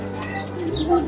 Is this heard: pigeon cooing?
yes